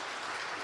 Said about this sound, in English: Why don't we get a round of applause from everyone just to thank everyone.